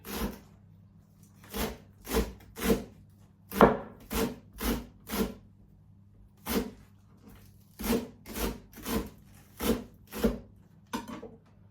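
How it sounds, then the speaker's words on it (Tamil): A knife chopping spring onions on a board: crisp, evenly spaced taps in two bursts of about eight to ten strokes each, close and clear, with a short pause between the bursts and no talk. "சின்னனாக வெட்டி எடுக்க போறேன்"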